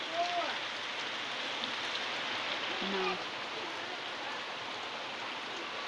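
Heavy rain pours down in a steady, dense hiss that fills the whole clip, with a brief word spoken over it.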